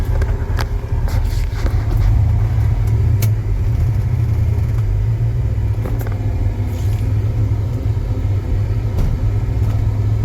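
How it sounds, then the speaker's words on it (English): A 1967 Chevrolet Chevelle SS 396 on a neighborhood road test gives a steady, deep engine rumble. Faint revving swells now and then over continuous road and cabin noise. "We're going to take this 67 Super Sport out for a road test so you can see how great it is to drive this little beast."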